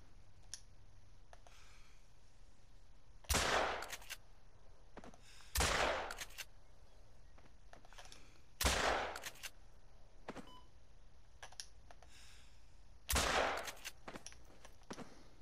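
Four rifle shots ring out one by one, a few seconds apart, while hunting in theHunter: Call of the Wild in New Zealand. Each is a sharp, loud crack with a short tail, separated by quiet outdoor ambience and faint clicks.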